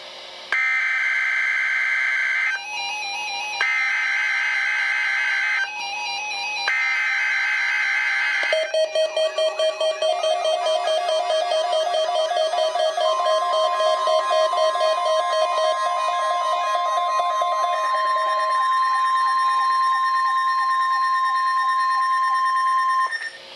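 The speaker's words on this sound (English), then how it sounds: "This is a weekly test of the NOAA Weather Radio Warning device." NOAA Weather Radio KEC60 Milwaukee weekly test alert: loud electronic tones alone, starting with three pulsed two-tone bursts, then a long run of warbling, stepping data-like beeps ending in a steady tone.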